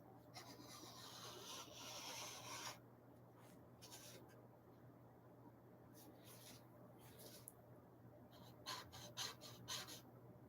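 A brush scrubs back and forth across a painting surface to lift and lighten paint, making a steady dry rubbing rasp with short stroke bursts near the end; no talking is heard.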